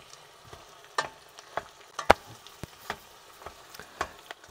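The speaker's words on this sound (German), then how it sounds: "Zwiebeln zufügen, leicht anbräunen" Onions browning in butter in a pot on a camper-van stove, with soft sizzling and scattered crackles and pops, a few louder clicks of utensil stirring, close and alone.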